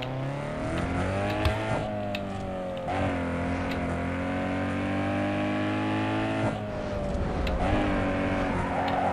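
Racing car engine, a Tofaş, in the video game Need for Speed Underground 2, revving loud and steady for the whole stretch, with pitch dropping and climbing again at several gear shifts, with no talk.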